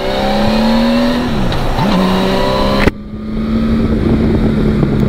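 The six-cylinder boxer engine of a Honda Valkyrie motorcycle hums steadily at speed, pitch dipping and rising through gear changes, with a sharp thump midway before the engine note carries on, close and loud with wind noise.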